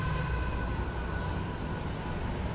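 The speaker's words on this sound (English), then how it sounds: "Of course, the longest train ever is about to go past." A train passes by nearby, giving a steady, loud rumble and rattling roar that fills the whole stretch without a break.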